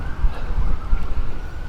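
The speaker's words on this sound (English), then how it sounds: "We got an ambulance with a police car chaser." An ambulance siren wails over heavy wind noise and low traffic rumble outdoors near the White House, with police cars following close behind; the siren's tone is steady and fairly distant.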